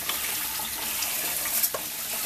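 Tap water runs into a kitchen sink while rice is washed, a steady close hiss of flowing water with small splashes and soft knocks.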